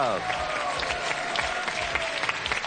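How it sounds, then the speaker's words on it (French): A French TV game show studio audience claps steadily for two contestants being introduced, dense even applause with a short musical sting at the start. "applaudissez Charline et Raphaël"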